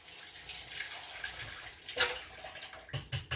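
Tap water runs steadily over a kitchen whisk being rinsed under a faucet, a continuous splashing stream that breaks into a few louder bursts near the end as the whisk moves through the flow.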